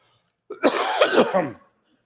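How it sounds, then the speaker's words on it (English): A single close, raspy burst of coughing and throat clearing, lasting about a second, with silence before and after. "I'm getting over a cold, so I have to cough occasionally."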